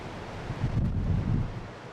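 Strong wind gusts buffet the exposed headland at Cabo da Roca, Portugal, with surf washing and breaking below, a steady roar that swells briefly in the middle.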